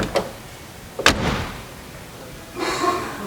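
A 1951 Mercury Coupe's restored door shuts with a solid thud, preceded by a light click of the latch, then a brief rustle afterward.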